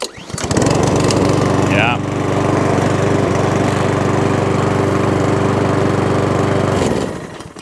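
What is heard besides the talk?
2016 Mountfield 464 lawn mower engine running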